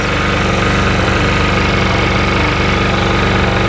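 Car engine idling at about 1450 RPM, a steady, loud, evenly pulsing hum throughout with no variation.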